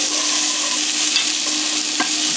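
Red onions fry in a pan, producing a close, constant, loud hiss of sizzling oil with faint crackles, no talking.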